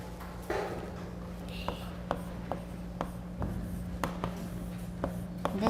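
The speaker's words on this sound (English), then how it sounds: "Let me write down A." Handwriting during a sampling lecture, with a series of sharp, faint pen taps and strokes spaced irregularly over a low steady hum, with a brief bit of quiet speech near the start.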